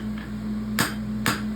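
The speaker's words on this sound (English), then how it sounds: "hold your tongs on a 45 and hit like that. And that heel caulk will follow your hammer handle." A blacksmith's hammer strikes a horseshoe heel caulk held in tongs at a 45-degree angle, shaping it into a block. Two sharp, ringing metal blows land about half a second apart over a steady low hum.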